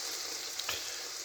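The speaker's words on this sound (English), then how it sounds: "Our mixture is in the frying pan there, viewers, lovely and green." A spinach and egg mixture fries in a frying pan with a steady, even sizzle, close and continuous, with a couple of faint pops.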